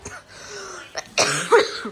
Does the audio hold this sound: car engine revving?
no